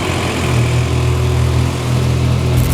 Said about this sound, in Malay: Motor cantik, boleh dengar dia punya bunyi.